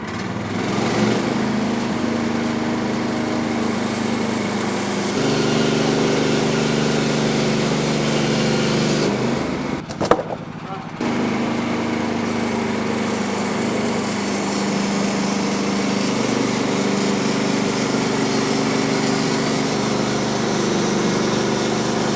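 Portable sawmill engine running steadily while the blade cuts a pine log into a cant: a continuous loud, high-revving small-engine drone that shifts in pitch as the load changes, with a brief break midway.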